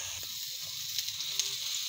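Mushrooms fry in a little oil on a flat pan, giving a steady, soft sizzle and hiss throughout, with a couple of faint crackles.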